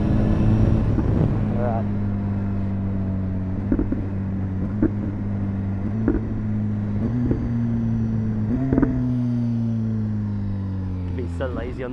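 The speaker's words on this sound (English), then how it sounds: "I'm going to show you what clutchless downshift sounds like" A 2015 BMW S1000RR engine hums steadily under wind rush while riding, with its tone stepping slightly and brief sharp blips marking clutchless downshifts; a voice speaks briefly.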